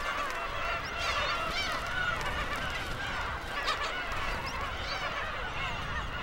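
Black-tailed gulls on a nesting island mob and attack a stranded chick, a dense, continuous chorus of harsh honking calls and squawks overlapping steadily at close range throughout.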